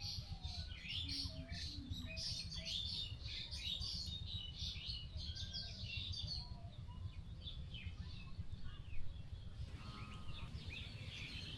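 Many birds chatter and call together in an evening bamboo grove near a village wetland, a dense, continuous mix of chirps, squawks and short whistles at moderate distance over a steady low background hum.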